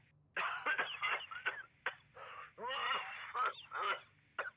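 A video game character in Tom Clancy's The Division 2 coughs repeatedly in harsh, rasping fits, close and loud, with brief gasps between bursts.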